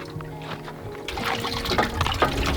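Water gushes from a hand pump at Streaky Bay, South Australia, a splashing, pouring flow that starts abruptly after a quiet moment and keeps running steadily, with faint voices in the background.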